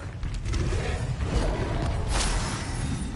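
Incendio fire spell cast in Hogwarts Legacy: a sustained, dense rush of roaring, crackling noise fills the whole few seconds at steady loudness, with a brighter flare swelling about two-thirds of the way through.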